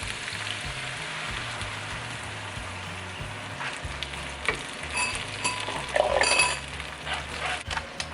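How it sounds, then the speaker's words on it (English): Beef broth mixed with cornstarch hits a hot pan, bringing a steady close sizzle with a low rumbling bubble underneath, then scraping stirring strokes and a louder surge of frying as the liquid spreads. "Next, we're gonna add the 1 cup of beef broth that we've mixed with the 1 tablespoon of cornstarch."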